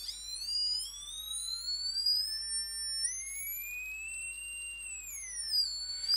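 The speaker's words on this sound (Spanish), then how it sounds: "Tengo un pitido, no sé si lo oís" Arduino buzzer giving a sustained high-pitched electronic tone that glides upward and back down in pitch, loud and clear with no talking.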